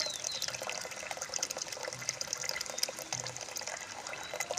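Water is poured onto fruit pulp to make a plant liquid for jasmine plants, a soft continuous trickle and splash heard close but quiet.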